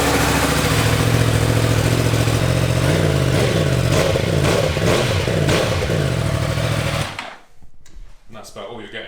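Yamaha R1 sport bike engine revving hard for a noise test, a loud raw roar held for about seven seconds before cutting down to a rough idle.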